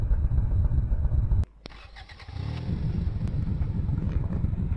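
Lamborghini engine starting: a loud idle rumble cuts out, a brief starter whir and click follow, then the engine catches into a steady, low, throbbing idle.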